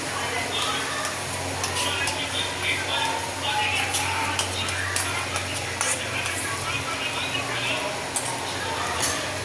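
Yogurt being stirred into garlic chutney in a pan, a steady soft scraping and clinking of a spoon against the pan over a faint sizzle, close and continuous throughout.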